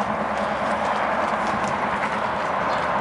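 An older walking horse and a seal bay quarter horse, both geldings, clip-clop along at a steady walk, dense overlapping hoofbeats close by under constant broadband noise.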